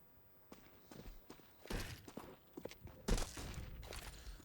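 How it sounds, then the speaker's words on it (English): Footsteps in mid on Dust2 during a professional Counter-Strike match, a run of soft irregular steps with a few louder close thuds, no talk over them. "Lots of footsteps heard in mid."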